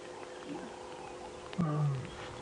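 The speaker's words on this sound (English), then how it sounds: "can you hear that lion?" A lion gives low, moaning contact calls during a sunrise safari drive, a deep, drawn-out rumble rising briefly near the end over a steady outdoor background hum.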